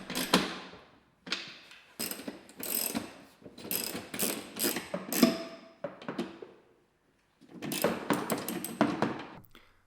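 Ratchet clicking in repeated bursts while tightening carriage bolts and nylock nuts on John Deere tractor turntable fenders, with short pauses between runs of rapid pawl ticks, close and fairly loud, no talk.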